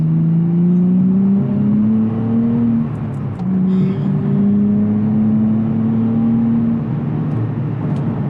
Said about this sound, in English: Get an exhaust if you get this car, because you're going to be missing the sound